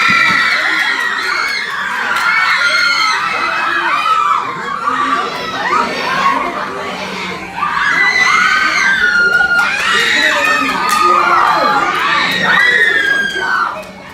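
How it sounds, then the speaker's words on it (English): A crowd of people screaming and cheering at high pitch, like concertgoers, during a movie screening; continuous, loud, dense shrieks from many voices with no pauses. "that one video I found on Twitter the other day of the people freaking screaming"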